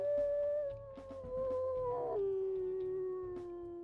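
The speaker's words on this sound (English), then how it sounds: "It's a very pretty howl, a bit of a deeper one." Deep, drawn-out wolf howl in the video game WolfQuest, one sustained tonal call that slides down in pitch partway through, heard clearly with little else around it.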